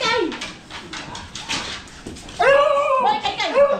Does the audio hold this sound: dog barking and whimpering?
yes